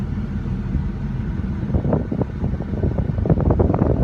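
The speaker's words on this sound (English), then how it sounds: "Alright, so there's the air conditioning." Air conditioning fan running inside a 2006 Ford F350 diesel truck cab, a steady broadband whoosh of blown air held at an even level throughout, with faint clicks and rustles near the microphone.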